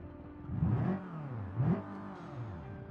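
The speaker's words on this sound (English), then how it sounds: "Listen to that fucking idle. That is not a good sounding 4-banger." A turbocharged four-cylinder car engine in a video game idles roughly and blips its revs twice, rising and falling in two short swells over a steady low drone, with no voices.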